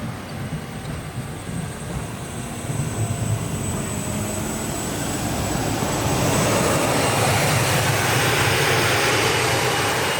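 A T-80 tank's gas turbine engine, of the type also fitted to Mi-2 helicopters, runs with a loud, steady jet-like roar and whine that swells and grows louder toward the end.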